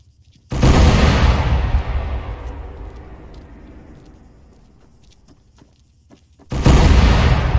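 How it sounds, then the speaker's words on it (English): Rifle volley fired at a veterans and Remembrance Day salute: a sharp, loud simultaneous crack that rolls off in a long fading echo over several seconds, followed by a second volley near the end. "All right, and the 21 gun salute."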